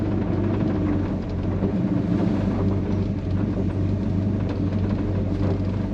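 A frame-off restored 1971 Chevrolet C10 pickup with a 350 V8 and dual exhaust, idling or cruising with a steady low rumble and throb, continuous and even throughout, no voices.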